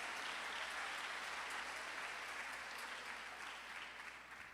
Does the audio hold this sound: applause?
yes